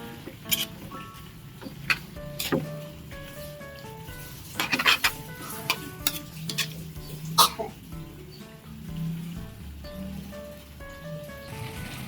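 Spatula scraping and clanking in a pan while stirring sautéed banana blossom with soy sauce, irregular sharp metal clinks and scrapes over a low background hum, with a few pauses between strokes.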